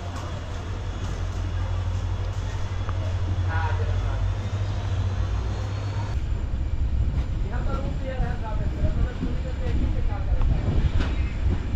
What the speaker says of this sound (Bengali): 2 মিনিট স্টপেজ দিয়ে আবার ট্রেন ছেড়ে দিল